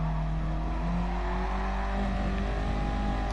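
A lightweight race car with a very short gearbox accelerating hard in GT Sport, its engine note droning and climbing steadily in pitch through the gears, loud and continuous, with no talk.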